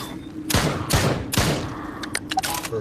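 Gunfire from the video game Drop Dead: Dual Strike, three sharp loud shots in quick succession with decaying tails, followed by a few fainter clicks and mechanical reload sounds.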